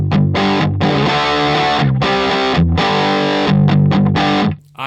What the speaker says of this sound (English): Let's go to the Distortion.